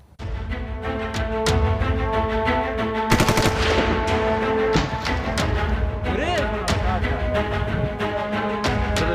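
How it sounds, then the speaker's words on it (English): Intense gunfire in fighting between Taliban fighters and resistance at Panjshir, with dense bursts and rapid shots cracking continuously over a loud, sustained roar, with heavier volleys near the middle. "Intense firing between Taliban fighters and resistance."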